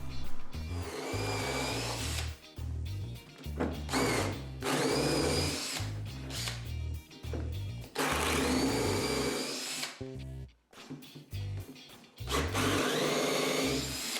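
A power drill whirs in repeated bursts as it bores holes in wood, with short pauses between runs and the motor pitch shifting under load.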